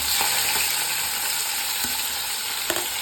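Mustard seeds, chana dal, green chilies and tomato fry in hot oil for cabbage palya, giving a close, continuous sizzle with a few faint pops and clicks.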